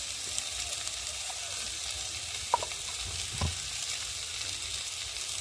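Potato and eggplant fry in a pan with salt and turmeric, giving a steady, quiet sizzle with faint stirring clicks and a couple of soft scrapes throughout.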